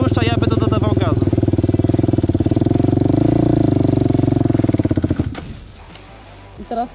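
A quad bike engine revs steadily as the throttle is opened during a first riding lesson, a loud sustained motor drone lasting about five seconds before dropping off and sputtering briefly near the end.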